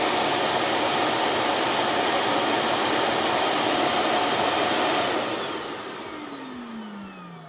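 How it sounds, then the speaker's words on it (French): Ecovacs Deebot OZMO T9 auto-empty station suctioning dust out of the robot vacuum, a loud steady broadband roar that cuts off near the end and leaves a falling whine as the motor spins down. "La station de vidage donc aspire tout ce qu'il y a dans le D-Bot."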